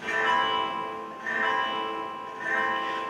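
A single guitar chord rings out clearly and is repeated, three strums each sustaining and fading, close and quiet with no voices.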